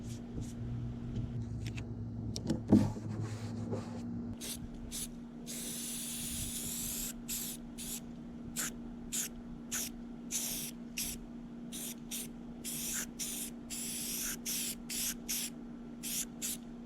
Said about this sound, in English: Now all we need to do is go ahead and spray all this out with some contact cleaner